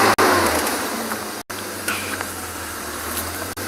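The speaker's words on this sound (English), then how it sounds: "Not quite sure why this car needed to make a loud noise like that." A safari car's engine roars loudly and steadily in the South African bush, a harsh mechanical whine with brief sharp cutoffs, close by and without any talking.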